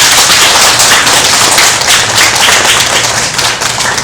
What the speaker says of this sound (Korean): 이 시간 박수를 한번 쳐볼까요?